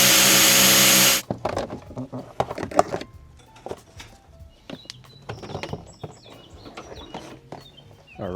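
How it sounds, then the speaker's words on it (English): A small drill bit bores into a plastic wheel arch liner clip on a BMW G20, giving a loud whirring burst at the start followed by scattered clicks and clatter of handling. "So I'm gonna grab a small little drill bit and just poke a hole in the middle."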